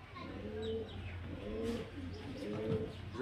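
Kalshira and Madrasi highflyer pigeons coo nearby in repeated throaty phrases, with occasional light chirps rising over the soft, continuous murmur.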